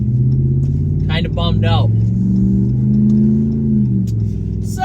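Pickup truck cruising down the road towing a Nautique 210 ski boat on a trailer, a steady loud mid-pitched engine drone with a slight rise in revs, someone talking briefly over it.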